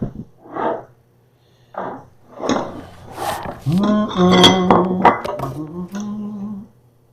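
Dishes and cutlery clink while Swedish meatballs are plated from a hot pan, with scattered bright knocks and rattles coming close and fairly loud, and voices and other kitchen noises mixed in.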